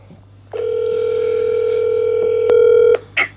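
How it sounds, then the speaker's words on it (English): A telephone tone sounds while a call is being placed, one long steady electronic tone held for more than two seconds, close and clear, with a faint click before it and a short noise after it ends. "Gosh. I hope she's awake and this phone call doesn't wake her up."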